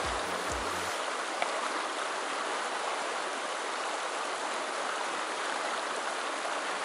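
A mountain stream in a gorge flows in a continuous, dense rushing roar, close and steady with no voices, after a brief thump at the start.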